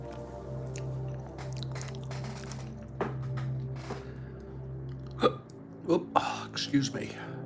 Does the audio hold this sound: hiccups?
yes